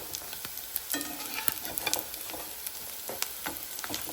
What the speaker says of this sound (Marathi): 2 मिनटं या साईडला पण भाजून घेऊ.